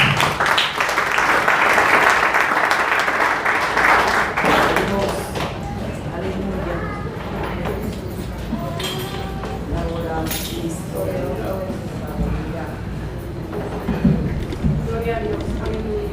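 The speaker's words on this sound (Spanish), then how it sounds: "Denle un aplauso al Señor." Church congregation applauding during a Spanish-language worship service, a dense burst of clapping for about five seconds that fades into quieter room noise, with voices and scattered sounds continuing afterward.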